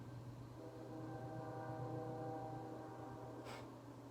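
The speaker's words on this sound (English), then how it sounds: "And there's a train. I love the train." A train horn sounds in the distance, with a steady low rumble of a passing train throughout and a brief louder burst near the end.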